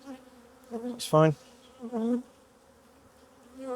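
Honey bees buzz around an open hive, close, droning hums in brief bursts beside a beekeeper; a voice briefly speaks.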